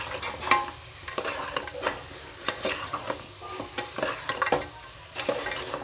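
Paya soup base with green chillies and pepper powder being stirred in a pot, repeated scraping and clattering strokes of a spoon over a soft background sizzle, close and fairly loud.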